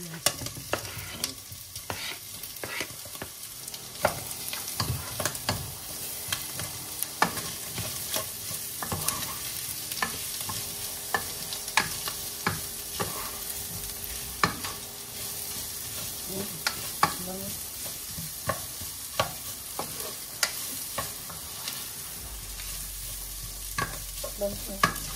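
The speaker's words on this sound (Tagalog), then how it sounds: "Lagay mo na yung bawang sa sibuyas." Garlic and onions fry in a pan with a steady, dense sizzle, broken by frequent scraping clicks from a stirring utensil, continuous and fairly close for the whole stretch.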